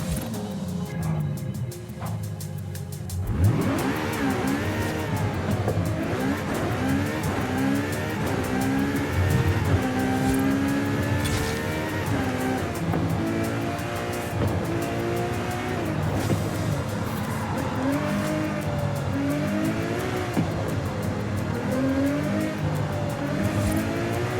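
A LaFerrari in the racing game Forza Horizon 5 revs and accelerates hard up a mountain road, its high engine note rising and falling through gear changes with occasional tire squeal, loud and continuous.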